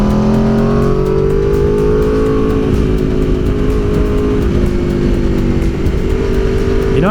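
Aprilia RSV4 motorcycle riding on a winding road, its engine droning loud and steady with rising and falling revs and wind rush throughout.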